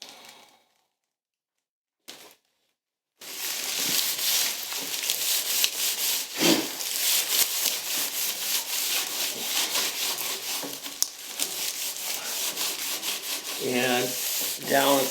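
Wood shavings are scrubbed hard over a wooden molding in a hand-plane woodshop, giving a continuous close rough rubbing that runs without pause after a short quiet start, with no talk.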